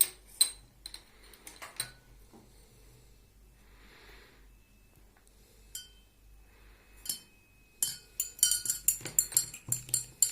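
A spoon clinks and taps against a glass while stirring salt and milk into water, giving scattered light metallic ticks and a brief burst of faster clinking near the end, close and fairly faint.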